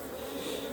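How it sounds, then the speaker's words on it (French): Honeybees buzz around a hive frame, a dense, continuous close-up drone of many wings at an even loudness, with no pauses or voices. "je vais chasser les abeilles"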